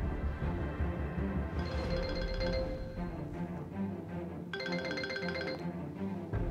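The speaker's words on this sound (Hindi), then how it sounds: "तारिक भाई को फोन करता हूँ।" A phone ringtone plays steadily and fairly loud in a home, two bursts of bright repeating tones over a constant background hum, with no talk.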